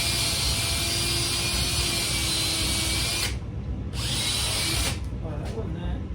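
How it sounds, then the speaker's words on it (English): A power drill bores holes through wood blocks for a guitar build, a loud steady whine running several seconds, pausing briefly, then starting again in short bursts close up. "I'm going to drill a couple of holes through"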